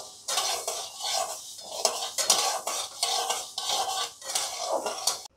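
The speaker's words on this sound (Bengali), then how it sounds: "প্রথমেই আমি মুগের ডালটা একটু ভেজে নেব লাল করে।" Moong dal dry-roasting in a pan is stirred with a utensil in quick rhythmic scrapes and rustles that come in short bursts of about one per second. The sound is close, with no voices.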